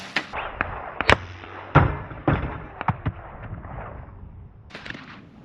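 Suppressed CVA Scout 300 BLK pistol (Dead Air Nomad-LT suppressor) fired at bowling pins and sheet metal on an outdoor range: a string of sharp, muffled cracks, roughly eight to ten spaced irregularly across several seconds, some followed by faint impacts.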